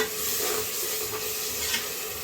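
A paste of ground coriander and mint sizzles and fries in a pan while being stirred, a steady loud crackle with scraping throughout.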